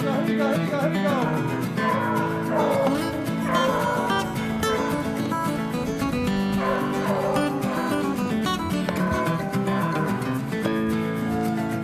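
A pack of hunting hounds chasing a rabbit bay in a continuous, overlapping chorus on a dairy farm in Michigan's Upper Peninsula. The howls are fairly loud and rise and fall in pitch throughout.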